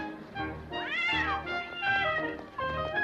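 A cat meows repeatedly in a 1983 TV play, a run of drawn-out, wavering cries that rise and fall close up, loud and clear with no talk over them.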